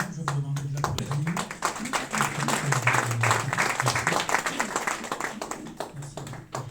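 An audience applauds a poet at a poetry festival, lively clapping from a crowd with voices talking and calling out over it the whole time.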